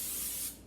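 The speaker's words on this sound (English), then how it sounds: "So it says spray medium with cooking spray, then add dry uncooked pasta." A brief hissing burst of cooking spray into a slow cooker, close and soft, tapering off after about half a second.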